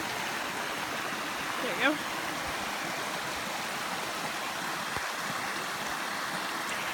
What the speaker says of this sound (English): we just created a surging river